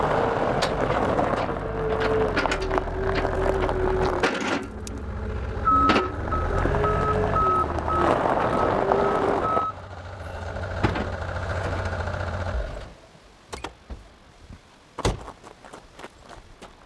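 A homemade skid steer fitted with a root grapple works nearby, its engine rumbling steadily while repeated electronic reversing beeps sound over it, then the machine drops away to scattered knocks and clunks.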